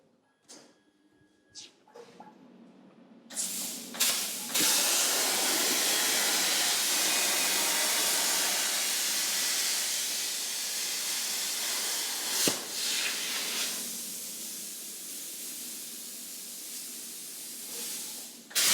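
A cutter slices through 5mm steel plate in a workshop that converts Land Rover Defenders to electric drive. After a few quiet seconds, a loud, steady, rushing hiss starts and holds to the end, broken by one sharp click partway through.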